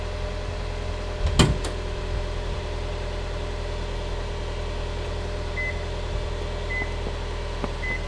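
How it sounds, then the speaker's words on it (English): Subaru Liberty GT sounding its door-ajar warning: a few short, faint electronic beeps spaced a second or so apart over a low idling engine hum inside the car. "Now the car just wants to tell me I didn't shut the door properly."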